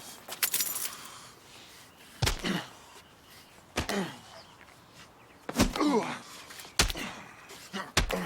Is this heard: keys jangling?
yes